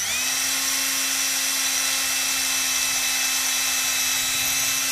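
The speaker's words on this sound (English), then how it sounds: "And then you're gonna drill the hole out." A steady, high-pitched electric drill whine runs continuously and fairly loud while drilling a hole in wooden lath of a lath and plaster wall, with a constant motor tone and no pauses.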